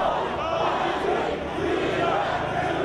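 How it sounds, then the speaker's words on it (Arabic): Demonstrators at a street protest over Syria chant anti-Iran slogans together, a dense crowd roar of massed voices shouting in unison, loud and close for a few seconds. "وردد المتظاهرون هتافات مناهضة لإيران"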